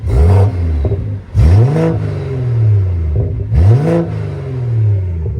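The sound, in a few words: BMW M240i engine revving with throttle blips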